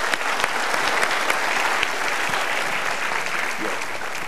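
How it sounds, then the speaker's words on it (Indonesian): A seminar audience breaks into loud, continuous applause, with many hands clapping in a thick, even roar that holds steady for several seconds. "Yuk kita berikan tepuk tangan."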